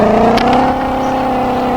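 A car drives along in a Turkish-language driving game set around Ankara, giving a steady, close engine drone with a faint click near the start.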